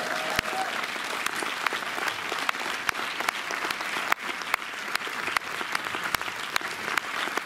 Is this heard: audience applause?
yes